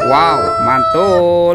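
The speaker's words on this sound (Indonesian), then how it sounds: "Ternyata ini ada ayam berkokok" A toy rooster lets out a loud, drawn-out crowing call, its wavering tones rising and falling across two long phrases, while a person briefly exclaims over it.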